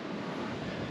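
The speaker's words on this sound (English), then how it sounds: "It's real windy." Strong wind gusting across the open coast of the Great Australian Bight, a steady broadband roar buffeting close to the microphone for about a second with no voices.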